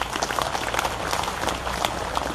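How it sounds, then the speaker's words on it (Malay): An audience applauds for Anwar Ibrahim at a political gathering, a steady, dense patter of many hands clapping throughout, fairly close and without pauses. "Mari kita berikan tepukan kepada beliau."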